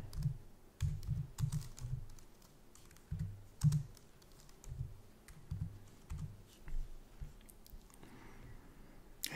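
Someone types a search query on a Mac computer keyboard, producing bursts of soft, close key clicks in uneven runs with short pauses between them, and no talk.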